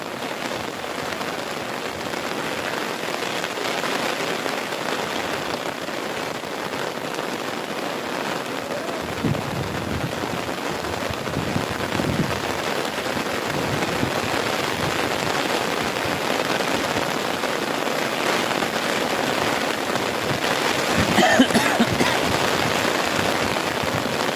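Heavy rain pours steadily in Rampalli village, Nandyal district, a dense continuous patter on surfaces with occasional low rumbles, loud and close throughout with no voices.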